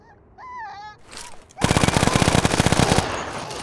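Rapid automatic gunfire in the Mission Evo video game, aimed at a Banshee, bursting in loudly after brief shrill creature-like calls and continuing as a dense, fast rattle of shots.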